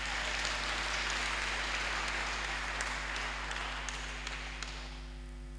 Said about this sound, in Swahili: Hebu jipigieni makofi.